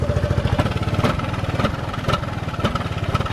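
Piaggio Beverly 400 scooter, new and still being run in, idling up close with a steady rapid low putter and regular periodic pulses from the exhaust, no voices.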